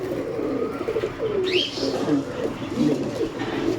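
Pigeons at a bird shop give low, rolling coos in overlapping bursts, close by and steady, with a brief higher chirp partway through.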